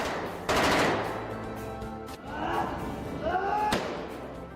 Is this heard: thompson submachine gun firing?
yes